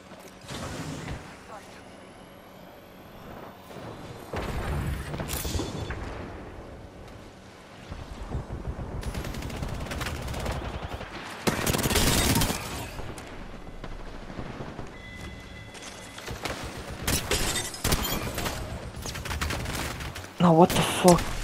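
Bursts of rapid gunfire from the player's weapon in a video game's Gun N Run mode rattle on and off amid explosions and game noise, with a voice talking over it.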